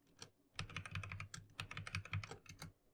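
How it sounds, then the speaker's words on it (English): Quick keystrokes on a computer keyboard enter a sudo password in a Linux terminal: a rapid, irregular run of soft clicks, fairly faint and close, with no voice. "type in your sudo password,"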